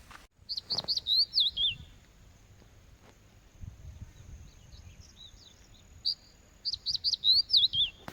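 A small bird sings quick bursts of high chirps at Sinhagad Fort near Pune, pauses for a few seconds, then chirps again, with faint footsteps and a quiet background.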